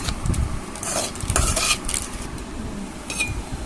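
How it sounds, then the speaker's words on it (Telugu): A spoon stirs egg rice, made with oil, cumin, salt, chili and masala, in a pan, scraping and clinking against the metal in steady close strokes with a faint sizzle underneath. "ఈ ఎగ్ ఇందులో వేసేసి కలపమంటున్నారు, కలుపుతున్నాను."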